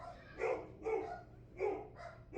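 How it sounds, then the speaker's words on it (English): A dog barks four times in a steady, evenly spaced series, fairly close and clear, with no talking over it and only a low background hum underneath. "That's my dog."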